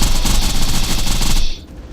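Rapid automatic gunfire from a weapon in the shooter Borderlands 2, a loud sustained burst of close shots that stops abruptly before a brief quiet tail.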